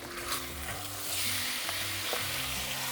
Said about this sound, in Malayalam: ഇനി ഇതൊന്ന് ഇളക്കി നോക്കാം